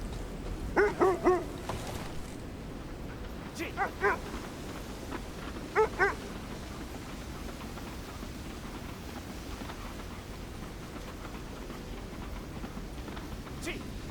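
Dogs bark in the video game KONA II Brume, giving a few short clusters of sharp barks early on before fading to a low, steady game ambience.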